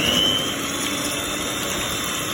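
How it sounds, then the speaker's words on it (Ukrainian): An electric mixer whirs steadily at low speed, whisking chilled eggs with a pinch of salt, a constant close motor drone with no talking. "додаємо дрібку солі і на слабких обертах збиваємо яйця у слабку піну"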